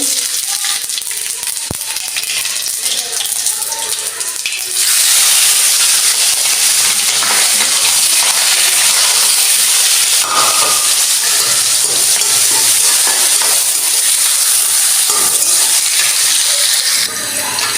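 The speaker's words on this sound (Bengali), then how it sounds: "আমি অল্প কটা মরিচ বাজিয়ে নিতেছি। এখানে আমি অল্প কটা জিরে দিয়ে দিব।" Chilies and cumin frying in a little oil, a loud continuous sizzling hiss that swells suddenly after a few seconds and holds steady, with occasional faint clinks of a utensil.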